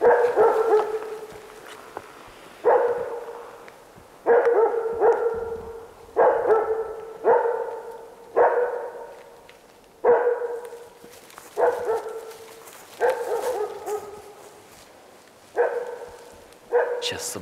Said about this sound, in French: On entend des chiens errants.